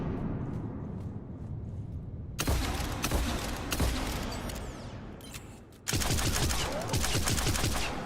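Arc pistol from the video game Mass Effect 3 firing in rapid bursts, crackling electric shots that crowd together like automatic gunfire, loud and close, with a brief drop in intensity before a final heavy volley.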